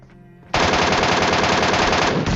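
Loud, continuous automatic gunfire from an MK rifle in a video game battle, a dense rapid stream of shots that starts abruptly after a quieter moment and runs steadily to the end.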